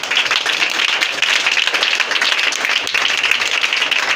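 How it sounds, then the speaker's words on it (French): Steady, dense applause from a crowd, bright clapping sustained at an even level throughout with no pauses. "Est-ce que tu peux l'applaudir?"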